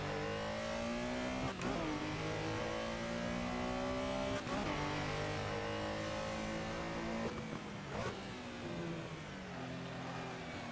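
Porsche Carrera RSR 3.0 racing engine in the Assetto Corsa sim at Barcelona, revving hard on throttle with rising and falling harmonic whine, sharp gear shifts around every three seconds, loud and close throughout.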